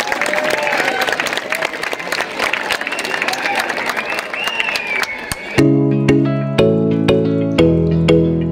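A crowd of students and trainees claps loudly and steadily for about five seconds at a district ITI sports festival in Pimpri Chinchwad, Pune. Loud tonal music then takes over in repeated stabs.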